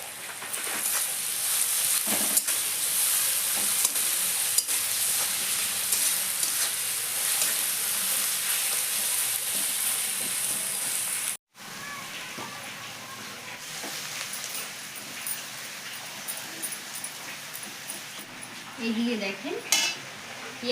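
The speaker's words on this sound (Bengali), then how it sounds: "পেঁয়াজ আদা রসুন ভালো করে ভাজা ভাজা হয়ে গেছে" Onion with crushed ginger and garlic fries in a pan, a constant hissing sizzle that briefly cuts out partway through, then resumes more quietly with some utensil clatter and stirring toward the end.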